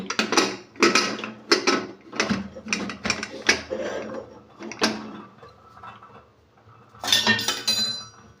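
A pressure cooker lid being fitted on in a home kitchen while making raw mango dal, a series of close metallic clinks and clanks in quick bursts, with a final pair of rattles after a short pause.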